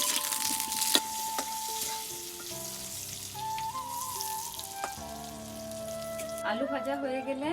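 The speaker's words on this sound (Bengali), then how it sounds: "তারপর কড়াইয়ে একটু তেল দিয়ে দেবেন, দিয়ে আলুটাকে" Potato pieces fry in oil in a kadai with a steady soft sizzle and occasional stirring, fairly quiet under background music, with some speech mixed in.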